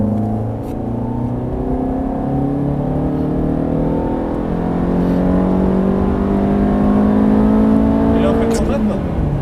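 Race car accelerating on the Mettet circuit track, engine note climbing steadily and loud throughout with a continuous close-up roar, while someone talks over it.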